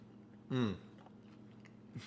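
A single short bite and chew of a home-made high-protein meal, brief and close to the microphone, then quiet room tone with faint movement afterward.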